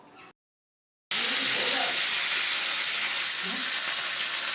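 Dry red chillies and mustard seeds go into hot refined oil in a kadai: a faint crackle, a moment of silence, then a loud, steady, close sizzle that holds without letting up.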